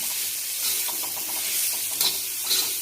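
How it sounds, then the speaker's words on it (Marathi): Previously roasted radish is sautéed and stirred in a pan, giving a steady close sizzle with soft scraping stir strokes throughout and no talking. "आपण टाकू मुळा जो की आपण भाजून घेतलेला छान परतून घ्यायचं"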